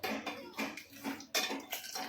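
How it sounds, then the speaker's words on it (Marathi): Pressure cooker lid being opened in a home kitchen while cooking black chickpea curry, a few close metallic clanks and scrapes in short bursts with quiet gaps. "आता मी कुकर खोलते आणि तुम्हाला दाखवते"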